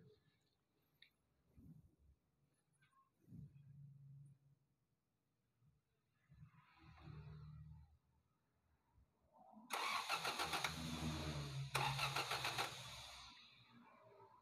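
A Honda car engine with ignition timing being set cranks on the starter in two bursts of loud whirring near the end, after quiet stretches with faint speech and workshop sounds.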